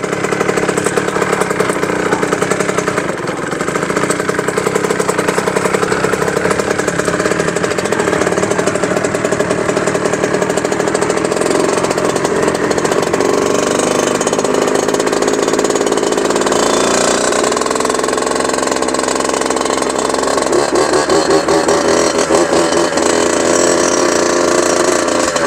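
Motocross motorcycle engines drone and rev loudly at a motocross championship race in Šiauliai, a dense continuous buzz with rising and falling pitch that holds strong throughout, close by and without talk.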